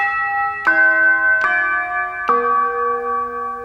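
Three bright big-bell tones from a Yamaha Genos keyboard strike in turn, each ringing on with a clear sustained chime, close and alone.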